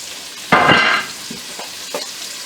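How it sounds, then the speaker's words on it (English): Bacon dropped into a hot pot, a sudden loud hiss that flares and settles into a softer sizzle, with a couple of light stirring knocks after. "we're going to throw our bacon in there"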